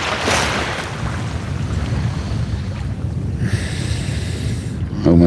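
A breezy morning out kayak fishing, with wind rumbling low and steady over the mic at moderate level, a faint hiss of water alongside and a brief louder knock near the end.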